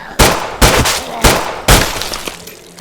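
Four sharp, loud 9mm pistol shots fired at zombies in the Survive The Nights video game, evenly spaced about half a second apart, each with a short ringing tail.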